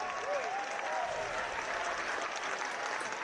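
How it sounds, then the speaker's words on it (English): Baseball crowd at a Melbourne Aces versus KT Wiz game roaring and applauding after a two-out double, a steady dense wash of cheers and clapping sustained throughout, with a few whistles early on. "here the crowd erupt on that hit"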